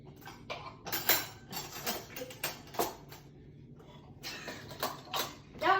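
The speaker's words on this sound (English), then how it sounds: "So I'm gonna get a spoon. Not a knife, a spoon." Spoon and cutlery clinking in a kitchen while making microwave scrambled eggs, a string of sharp metallic clicks and rattles in irregular bursts with brief pauses, fairly close.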